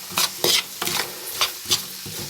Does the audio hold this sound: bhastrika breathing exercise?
no